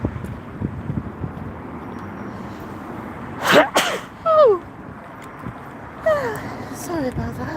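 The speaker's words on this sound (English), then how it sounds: "That was a bit of a sneeze." A single sharp sneeze bursts out close to the microphone over steady outdoor background noise at a bus and train spot, followed by brief vocal sounds.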